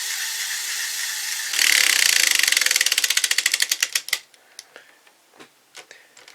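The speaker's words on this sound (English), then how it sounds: "and wind it up like so. Then, as you spin it," A wound-up piece of the GoJyuJin DX toy spinning as a rotating shield, giving a loud whirring buzz that breaks into a fast ratcheting clatter, slowing to sparse clicks as it winds down, close and alone.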